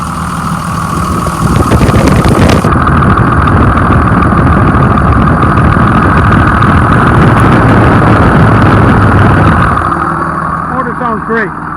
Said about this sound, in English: The motor sounds good, but I do see moisture.